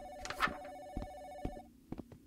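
In the horror video game Phantom Dial, a telephone rings with a steady tone, moderately loud, broken by soft clicks and knocks before it cuts off.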